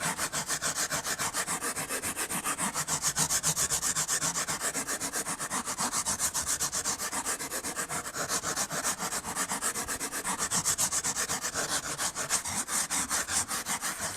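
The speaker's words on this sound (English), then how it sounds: "we're going to use the round side of your rasp" The round side of a rasp files into wood, deepening a groove in a carved butterfly with fast, steady back-and-forth scraping strokes that rasp continuously and close up for the whole stretch.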